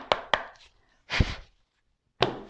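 Three sharp slaps of a tarot deck being cut and tapped on a table during a card reading, separated by short silences, with a softer shuffling rustle in the middle.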